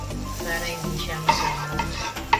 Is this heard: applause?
no